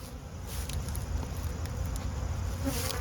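Honey bees buzz steadily and close by, a dense swarm droning continuously with no voices.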